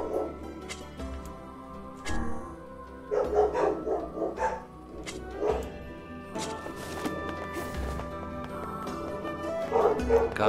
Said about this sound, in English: Gotta love the dog screaming bork,